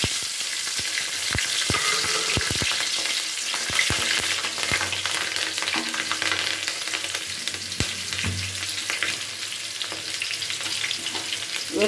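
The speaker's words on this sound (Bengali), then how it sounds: "কড়াইতে তেলটা গরম আছে, কড়াইয়ের মধ্যে দিয়ে দিলাম কিছুটা কালো জিরে ফোড়ন, কয়েকটা কাঁচা লঙ্কা" Black cumin seeds and green chillies sizzling in hot oil in a kadai, a loud continuous crackling fry with scattered sharp pops and spatters throughout, no voices.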